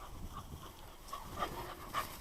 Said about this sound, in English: Great little hunting dogs.